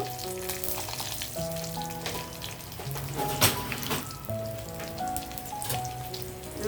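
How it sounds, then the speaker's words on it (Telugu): Coriander seeds, dry red chillies and garlic cloves frying in a pan for coconut chutney, giving a steady, rain-like sizzle over a tonal background melody. "కొంచెం ఫ్రై అయ్యమనివ్వాలండి కొద్దిగాను వేగుతూ ఉంటాయి"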